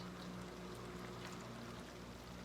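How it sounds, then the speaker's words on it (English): Starchy pasta water poured into a pan of lemon garlic pasta with chicken and spinach, a soft continuous trickle over a low steady hum. "I want to add me a little bit more of my pasta water now."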